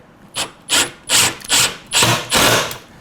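Five short bursts of a drill whirring, each about a quarter second, spaced evenly and close by, driving 1-inch screws flush into a wooden drawer for a Toyota 4Runner kit, with no voices.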